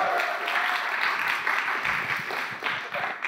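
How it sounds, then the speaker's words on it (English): A church congregation applauds new members, a broad wash of clapping that holds steady with a few louder bursts and faint cheering mixed in. "Let's give them all a big round of applause."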